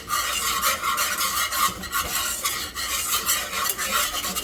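Catfish frying in a pan on the stove gets stirred, with a utensil scraping and clinking against the pan in an uneven rhythm over a constant close sizzle, and no voices.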